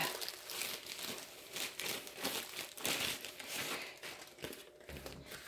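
Crinkly plastic bag from a Diamond Art Club package being opened, with continuous close crinkling and rustling for several seconds and no talk.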